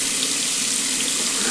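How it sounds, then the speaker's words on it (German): Tap water running steadily into a sink to warm it up, a loud close continuous hiss and splash with no break. "wir machen jetzt erstmal das Wasser warm"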